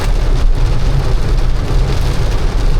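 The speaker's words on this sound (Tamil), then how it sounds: "சரியான மழை." Heavy rain pours steadily during a taxi ride in Chennai, a dense continuous roar of rainfall with low rumbling underneath, loud and unbroken, no voices heard.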